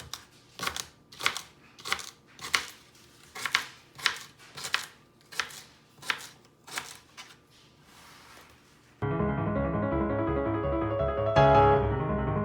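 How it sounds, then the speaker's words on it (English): A knife chopping rhubarb into pieces on a board, a steady run of about a dozen sharp close cuts at a regular rhythm, followed by a swell of background music. "So we're just going to cut now."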